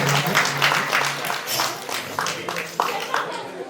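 Audience at a temple award ceremony clapping, a dense, moderately close burst of applause that carries on steadily with some louder claps, while a voice speaks over it.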